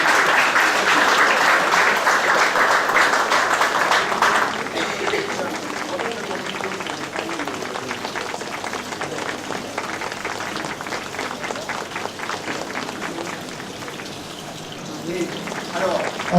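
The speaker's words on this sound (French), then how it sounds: "on peut tous les applaudir plus que ça." An audience at a French-speaking award ceremony gives dense applause for silver medal recipients. The clapping is loud at first, then thins to a softer, patterned rhythm and swells again briefly at the close, with a voice audible partway through.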